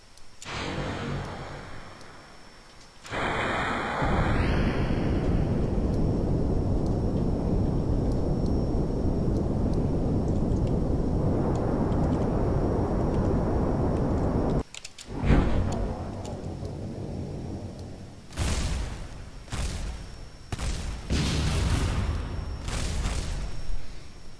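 A rocket crashing and exploding in Kerbal Space Program after dropping its engines, with a long roaring rumble that fills most of the clip, followed by several sharp, loud bursts of explosions near the end.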